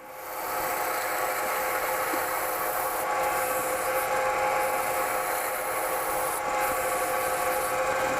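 An acrylic pen blank is sanded lightly with 120-grit abrasive mesh, producing a steady, loud, continuous abrasive hiss that holds evenly for several seconds with no talking.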